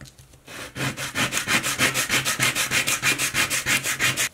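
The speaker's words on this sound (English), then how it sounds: "We're gonna have to sand this guy." A carved wooden fishing lure being sanded by hand, with steady back-and-forth rasping strokes repeating in a quick, even rhythm, close and fairly loud, with no one talking.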